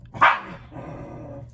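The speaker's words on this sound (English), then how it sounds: "That's my dog, Daisy." A single sharp dog bark close by, followed by a low rumbling growl that trails off.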